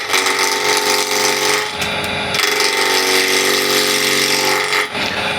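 A wood lathe spins a cross-grain Katalox blank while a 12mm spindle gouge cuts, giving a loud, continuous whirring hum with brief dips and changes in tone as the speed rises.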